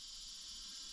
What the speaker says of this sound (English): That is the sound of cicadas.